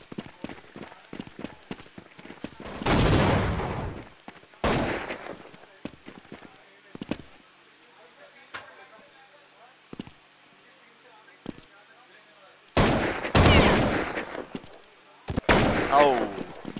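Bursts of gunfire from a 2013 competitive tactical shooter match, with rapid volleys and single sharp shots spread across the stretch, mixed with footsteps and an excited commentator talking over the action.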